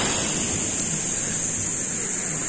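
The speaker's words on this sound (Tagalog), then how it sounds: "Malakas kasi yung alon." Steady roaring wash of surf with a constant hiss, strong ocean waves breaking close by on a beach in Lian, Batangas, with no clear gaps between them.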